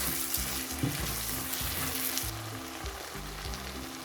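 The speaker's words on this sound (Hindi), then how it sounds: "2-3 मिनट तक हम इसे भून लेंगे मसाले को, ताकि टमाटर थोड़े सॉफ्ट हो जाएं" Spices and tomatoes fry in a pan for restaurant-style chole, giving a constant crackling sizzle with a faint watery bubbling edge, close and steady, over soft background music.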